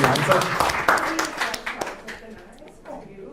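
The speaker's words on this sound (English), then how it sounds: "Give the man a round of applause" Scattered clapping from an audience at an investing event, loud at first and thinning out over a few seconds, with voices talking over it.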